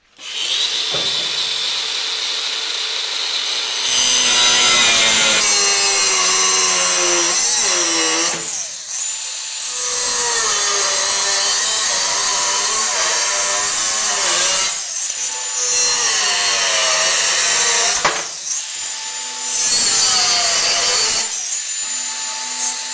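A 4.5 inch angle grinder cuts through a wooden trailer wall in several loud, rasping bursts with short pauses between them, the disc's whine rising and dipping as it bites into the wood.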